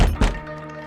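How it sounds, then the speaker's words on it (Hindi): A few heavy knocks on a wooden door in a Hindi comedy film scene, two loud thuds close together at the start, then a fading ring-out. "पिताजी दरवाजा क्यों खटखटा रहे?"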